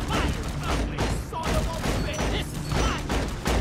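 Gunfire in the video game Deep Rock Galactic: dense, continuous bursts of shots and impacts, loud and close, filling the whole stretch without pause.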